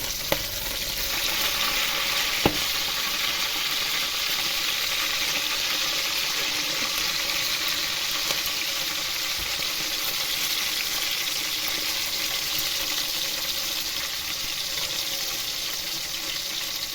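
Green chilies frying in a pan of oil for tomato pachadi, a steady, dense sizzle that runs unbroken and fairly loud throughout, with a single sharp click near the start and no voices.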